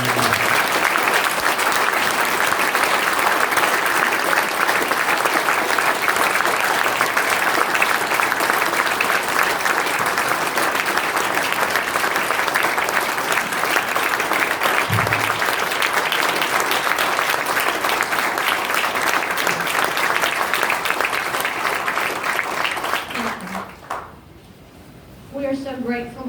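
Long, loud audience applause in a large room at the opening day of a recovery center, dense continuous clapping that tapers off near the end as a voice begins.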